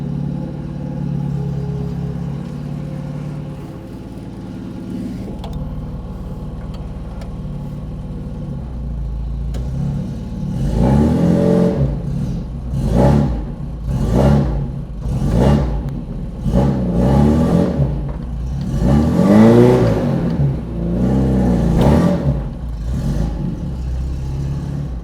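A vehicle engine idles, then revs in repeated surging bursts while trying to jerk a car stuck frozen in its hole, each rev rising and falling in a steady rhythm, close and loud.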